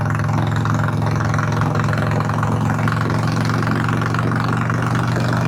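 A 2009 Harley-Davidson Sportster 1200 with an eight-over front end and Z-bars idles steadily close by, a constant low, throbbing engine rumble with no talk over it.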